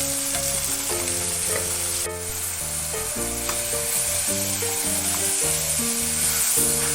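Half a spoon of chili powder sizzles in hot oil with a little water while cooking the masala for a raw jackfruit kofta curry. A steady, close frying hiss runs throughout under rhythmic background music.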